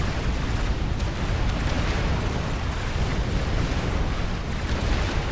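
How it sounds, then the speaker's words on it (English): Cruiser missile strikes in Forged Alliance Forever form a dense, continuous rumble of overlapping explosions, loud and steady throughout without any voices. "And there's that cruiser missile fire still trickling in."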